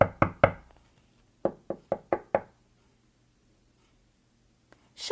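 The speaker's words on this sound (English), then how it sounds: "Show me knocking." Knuckles rap on a hard surface in two sets, three quick knocks and then five evenly spaced ones, close and sharp, with silence between the groups and no talking.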